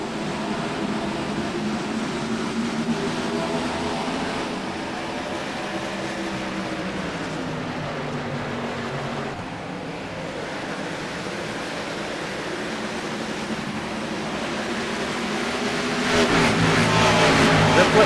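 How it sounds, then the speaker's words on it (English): Race cars in the Mid Atlantic Racing Series roll around the Darlington oval behind the pace car, a continuous blended engine drone at moderate distance that swells louder toward the end. "Pace car is in. Fleck and Triplett bring us to pit road"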